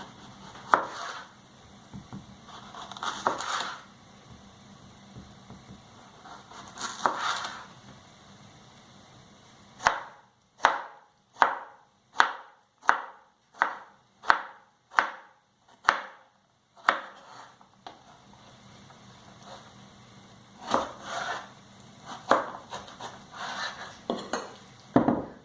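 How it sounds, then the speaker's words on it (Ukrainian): A knife dices cucumbers into cubes on a board in a steady run of about a dozen crisp, evenly spaced cuts, with softer kitchen clatter before and after. "Тим часом кубиком наріжемо гірок."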